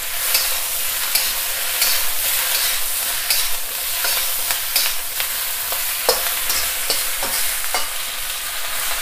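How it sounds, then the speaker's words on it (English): Pak choi fries in a wok over high heat, a steady loud sizzle broken by frequent scraping clicks of stirring, close and with no voices. "keep it on a high heat. We'll be frying this for about 4 to 5 minutes"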